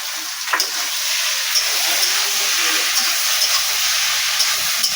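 Potatoes and vegetables frying with ginger-garlic paste in a pan for a banana-flower ghonto, giving a loud, even hiss that holds steady throughout with a few faint knocks.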